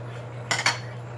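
A lid settles onto a pot of simmering pinakbet with two quick close metallic clanks over a faint steady hum.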